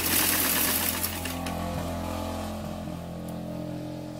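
A sewing machine runs a continuous seam on a jumpsuit, its steady mechanical whir loudest at the start, then easing into an even hum close by with no voices.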